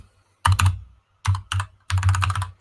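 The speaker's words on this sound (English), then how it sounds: "This keyboard is so funny." Loud, clattering keyboard typing in three quick bursts separated by short pauses, each a rapid flurry of sharp keystrokes close to the mic.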